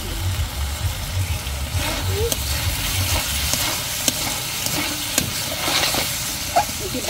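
River fish frying in a pan in a village kitchen in Bangladesh, with a steady sizzle and repeated scraping stirs throughout, near and fairly loud, and voices talking over it.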